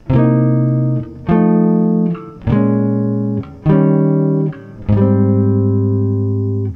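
A jazz turnaround back to the 1 chord: five sustained instrument chords in a row, each struck cleanly and held before the next, moving through a short progression.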